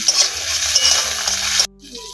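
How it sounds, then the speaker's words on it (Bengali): Chopped onion and tomato stirred in hot mustard oil in a kadai, a brief close scraping and soft sizzle under a steady hum that cuts off abruptly, no voices. "কড়াইতে সরিষা তেল দিয়ে দেবো মশলা ভাজার জন্য। তেল গরম হয়ে গেছে, এখন পেঁয়াজ কুচি দেব, একটা টমেটো কুচি, একটু নাড়াচাড়া করে নেব।"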